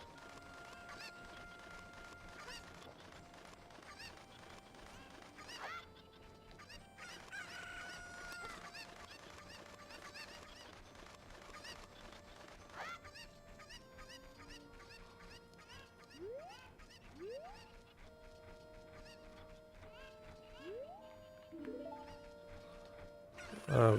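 Chickens in Zelda: Ocarina of Time cluck and crow in a faint, scattered series of short calls, with squawks growing denser toward the end.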